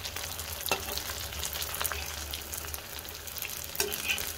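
Pakoras made without gram flour or wheat flour fry in hot oil, a steady crackling sizzle with a few sharp pops and spatters, close and moderately loud, with no voices.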